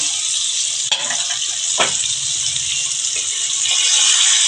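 Kajoli fish frying in hot oil in a pan, a steady close sizzle with a few sharp scraping stirs of the spatula and no talking.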